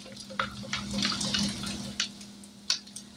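Water poured into a small dish, about a quarter cup, to mix with taco seasoning while making burritos: a close, short splashing trickle with a few distinct drips and splats, with no talking.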